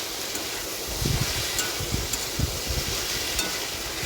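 Fish frying in a pan with a village-style vegetable chorchori gives a steady, close sizzle, with occasional soft clicks and stirring scrapes over the continuous hiss.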